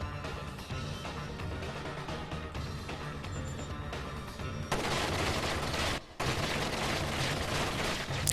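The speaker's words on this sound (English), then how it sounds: "Wait for him to quit shooting and get up here" Enemy gunfire in Splinter Cell: Double Agent, sustained rattling bursts under a dense, noisy mix that grows louder partway through, breaks off for a moment and then resumes.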